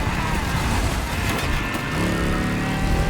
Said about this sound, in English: There is only 2 cylinders in this engine sound.